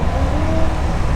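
A Camaro at a street machine show, its engine giving a loud, steady, throaty rumble close by for about a second, with no talk over it.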